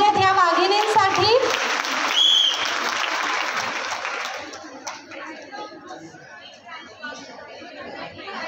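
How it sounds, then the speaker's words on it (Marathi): A crowd of women at a Paithani game show event claps loudly and densely for several seconds with cheering and chatter mixed in, then the clapping fades out and lively talking voices take over. "एकदा जोरदार टाळ्या झाल्या पाहिजेत ह्या वाघिणींसाठी"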